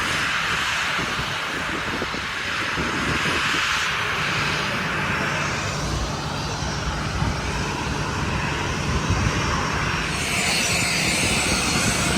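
An airplane engine drones loudly and steadily overhead for about twelve seconds on a seaside shore at sunset, a broad continuous roar that masks the background.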